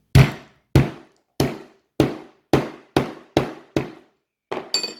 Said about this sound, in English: then I'll take the hammer to it